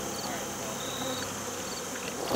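Honeybees buzzing steadily at a hive being fed for winter, a dense close hum with a few individual bees whining past, no talk.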